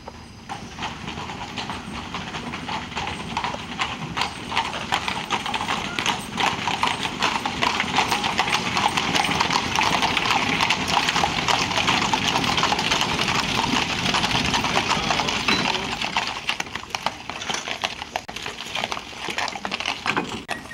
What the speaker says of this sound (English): His casket, draped with an American flag, was carried in on a horse-drawn caisson.